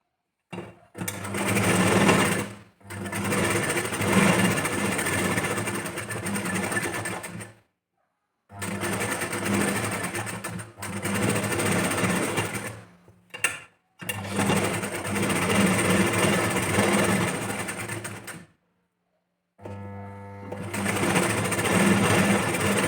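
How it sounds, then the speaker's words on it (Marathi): Sewing machine stitching a princess-cut, back-open blouse, running in long steady loud bursts of rapid mechanical whirring, separated by brief silent pauses between seams. "तर इथं आता या इकडच्या साईडचं सुद्धा आपल्याला असंच इथं स्टिच करून घ्यायचं."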